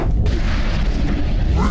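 A fireball explodes in the VR game Waltz of the Wizard as a deep, loud boom, its rumble filling the whole moment with a sharp crack near the start and a rolling low roar after.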